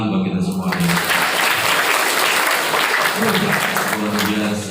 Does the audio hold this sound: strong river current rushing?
no